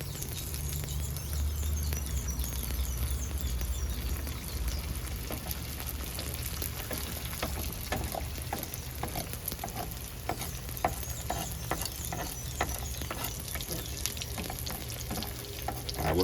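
Fry bakes sizzle and crackle in hot oil, a continuous quiet frying hiss dotted with small pops and spits, heard close up with no talking.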